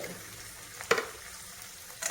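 Turmeric and coriander powder being stirred with tomatoes and brinjal in a pan for a paneer bhaji, a soft continuous sizzle with one sharp scrape of the spoon midway and another near the end.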